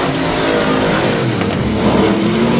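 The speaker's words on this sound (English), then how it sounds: "Graham going to try to pounce and let these two hustle it out here for the final circuit around the Texarkana 67 Speedway." Race cars roar around the Texarkana 67 Speedway oval on the final lap, a loud, continuous wall of revving engines close by with no talk.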